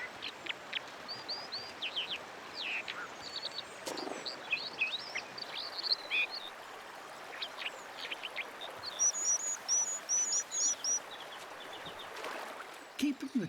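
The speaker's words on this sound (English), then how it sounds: "it's their song that acts as a warning to rivals" River birds sing a warning song to rivals, with repeated high chirps and calls over a steady rushing background and scattered quack-like notes.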